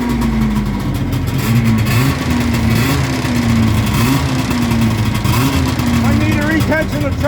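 A Yamaha SRV540 snowmobile engine runs loud and close, a steady rough drone with a wavering pitch that rises and falls slightly, smoking as it idles.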